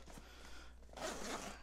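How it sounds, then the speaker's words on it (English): A zipper on an Eberlestock G4 Operator backpack is pulled in one quick, close, quiet zip, with no talking. "there's two zippers,"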